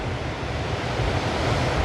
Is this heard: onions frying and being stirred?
no